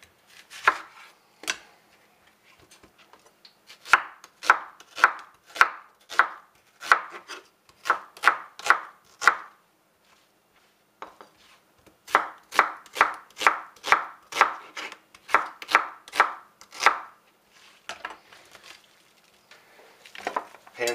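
An onion being chopped on a board for Spanish rice, with rapid, even knife strikes in two long bursts separated by a short pause, close and crisp with no talking.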